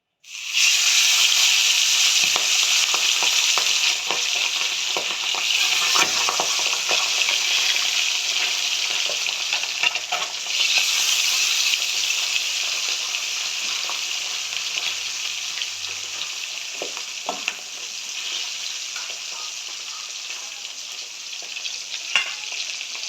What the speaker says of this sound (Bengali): এবার গরম যেহেতু হয়ে গেছে এবার আমি মাছগুলো তুলে দেবো তেলের মধ্যে